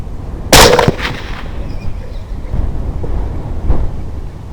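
A 6.5 Grendel rifle fires a 129-grain Hornady SST round at a hog outdoors: one loud, sharp near report that rolls into a fading boom over wind noise, followed by a fainter thump a few seconds later.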